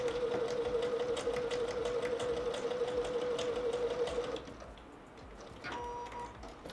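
A sewing machine runs steadily, stitching a patchwork strip for a Shoofly quilt block with a close, even mechanical whir for about four seconds before stopping. Softer handling noises follow.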